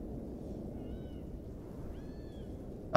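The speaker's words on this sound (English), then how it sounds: "I can hear some cats there somewhere, probably behind the trucks." Two cats meow faintly in the distance in the video game Stalker GAMMA, their drawn-out cries rising above a steady rumbling ambient background, ending with a sudden loud click.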